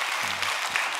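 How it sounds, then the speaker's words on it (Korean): A church congregation claps after a special worship song; a brief, steady burst of applause with a faint low voice briefly heard underneath. "여러분 박수 한번 해주셔요"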